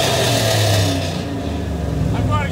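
A car engine revs loudly with a rough, throaty exhaust rumble, dropping to a lower idle burble, with brief voices in the background.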